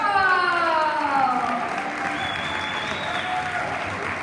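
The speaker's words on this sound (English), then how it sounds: "please give a round of applause for your 2025 Stingrays girls" Sustained crowd applause at an all-star soccer luncheon honoring a 2025 girls' team, steady and full throughout, with faint voices and a brief whistle-like tone in the mix.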